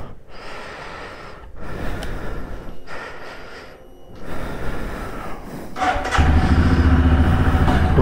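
A Royal Enfield Himalayan Scram motorcycle near Leh is started for a test ride, with bursts of close breathy noise giving way to a loud, steady engine idle building in the final seconds.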